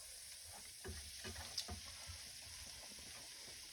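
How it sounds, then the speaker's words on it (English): Salted onions with garam masala cook in a pan, giving a faint, steady sizzle with a few soft stirring scrapes partway through. "I actually added salt to the onions to help them weep. And just gonna cook that together."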